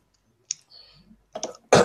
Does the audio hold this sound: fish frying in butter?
no